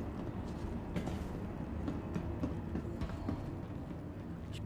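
Train pulling in within a video game, a steady rumbling rattle of wagons that holds at an even level throughout, near and continuous with no talk over it.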